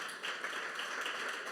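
A church congregation claps together in a steady, dense wash of applause at moderate level, with no voices standing out.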